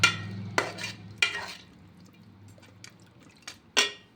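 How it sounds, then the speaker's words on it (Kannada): A spoon scrapes and clinks against a pot as chicken is stirred with water for lemon chicken, giving several sharp, close metallic knocks spaced irregularly over a quiet background. "ನೀರು ಹಾಕ್ಕೊಂಡು ಚೆನ್ನಾಗಿ ಮಿಕ್ಸ್ ಮಾಡ್ತಿದ್ದೀನಿ."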